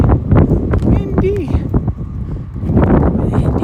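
Wind rushing through a tunnel-like space under a building in Brooklyn on a rainy night, a steady broadband roar buffeting the microphone, with a brief whistle-like squeal near the middle and footsteps mixed in.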